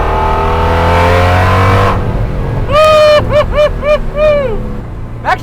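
Ford GT40 race car engine revving hard, loud and close, with rising and falling pitch sweeps as the throttle is blipped repeatedly after a steady high drone.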